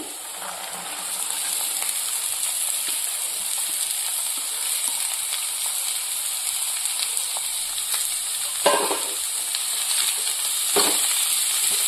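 Carrots sizzling in a pan with curry leaves, a steady bright frying hiss throughout with small crackles and a couple of louder stirring scrapes.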